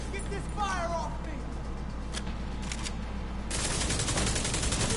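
Gunfire in Tom Clancy's The Division 2, a dense burst of rapid automatic shots rising in the latter half over steady background game noise, with a person talking during the shooting.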